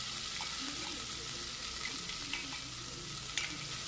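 Crushed fennel paste frying in a pan while being stirred, a steady close sizzle with occasional scraping clinks, continuous and without talk.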